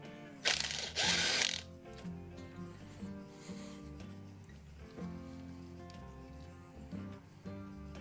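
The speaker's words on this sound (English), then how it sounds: "Now remove the right side bolt." A hand ratchet working a bolt off a Husqvarna engine's ignition coil, a burst of quick clicking near the start, then softer mechanical turning over a steady background tone.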